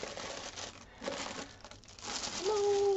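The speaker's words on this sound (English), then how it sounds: "It comes in this cellophane wrapper." Cellophane wrapper crinkling and rustling as it is pulled off a boxed art print, with close, irregular crackles and tearing throughout and a short squeaky tone near the end.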